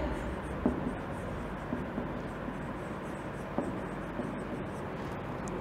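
A pen scratches as an answer is written out during an English grammar lesson. The faint, soft strokes continue under steady background hum, with a few light taps along the way.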